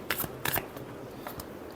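Tarot cards are shuffled by hand in a few quick riffling bursts, close and crisp, and softer rustling follows between them. No one speaks.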